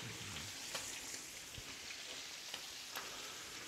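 Two onions sizzling and frying in a pan with a pinch of salt, a steady soft crackle with a few sharper pops, fairly quiet and without talk.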